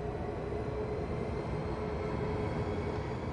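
An ICE 4 high-speed train, class 412, runs along with a steady rumbling roar and a faint sustained tonal whine, moderately quiet and without talking.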